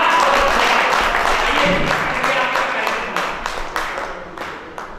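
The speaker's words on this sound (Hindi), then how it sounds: "एक बार जितने भी लोग हैं जोरदार तालियां बजाएं अपने सभी कवियों के लिए" Loud, dense audience applause for the poets at a kavi sammelan, a steady roar of many hands clapping that gradually thins toward the end, with a few sharper claps standing out.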